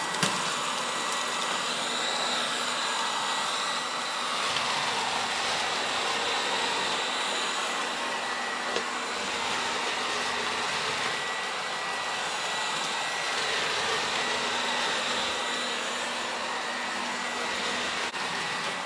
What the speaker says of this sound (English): It's pretty quiet on normal suction,